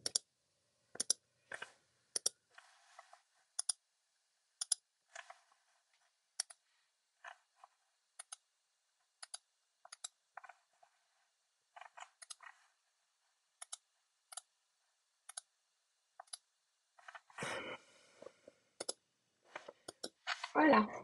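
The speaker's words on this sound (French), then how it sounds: "je vais cliquer sur envoyer" Sharp, isolated clicks sound close and dry at an irregular pace while holiday labels are made on a Silhouette cutting machine, and a voice talks briefly near the end.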